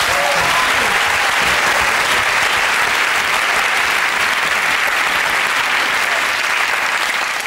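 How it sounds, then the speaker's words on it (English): A TV panel-show studio audience breaks into dense, sustained applause that holds steady and loud from start to finish, with no voices cutting through. "Please join me now in a round of applause for our people and their things."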